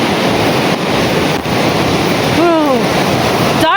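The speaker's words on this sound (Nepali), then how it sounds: "झर्नाको साउन्ड आइरहेछ, झर्नावाला भाइ आइरहेछ है" Steady roaring rush of water from Gurje waterfall near Kathmandu, loud and continuous with wind buffeting the microphone, and a brief sweeping whistle-like tone near the end.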